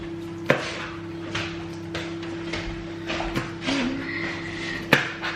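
A kitchen knife chops vegetables for spring rolls on a board, giving sparse, irregular sharp knocks. A steady background hum sits under the cutting, and a faint clink is heard once.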